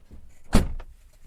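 One truck door, on a Volvo FH Electric, shuts with a single sharp thud, short and close against a quiet cab.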